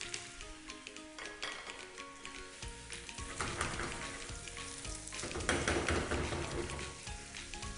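Onions frying in a pan on a stove, a continuous crackling sizzle with busy popping that swells slightly toward the end, no speech.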